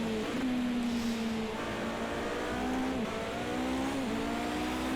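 A Toyota TS050 Hybrid LMP1 races at Spa-Francorchamps in the spray in Project CARS 2, its engine holding a steady high drone with a couple of gear shifts under a wash of rain and road noise.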